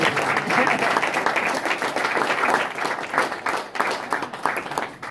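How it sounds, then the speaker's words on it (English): Audience applause for boxer Gervonta "Tank" Davis at an event with Floyd Mayweather, a dense, sustained burst of many hands clapping that slowly thins toward the end. "We're gonna clap for him."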